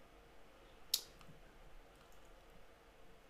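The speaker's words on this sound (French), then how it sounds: "Je clique dessus." A single sharp computer mouse click, close and crisp, in an otherwise quiet room with faint background hiss.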